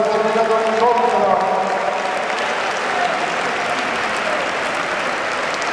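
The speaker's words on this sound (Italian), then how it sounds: "Facciamo un grande applauso al terminato l'incontro." Loud applause from the crowd at a boxing match after the final bell, a dense continuous roar of clapping with some crowd voices mixed in.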